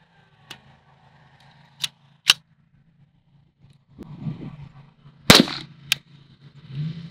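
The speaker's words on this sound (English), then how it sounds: "Dead trigger again." A Kel Tec CMR30 rifle gives sharp, isolated clicks as its trigger is pulled dead, with a few handling rattles between the clicks and a louder snap near the end.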